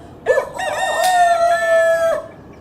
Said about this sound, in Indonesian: tiba-tiba ada suara ayam berkokok.